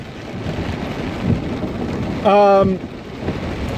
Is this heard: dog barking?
no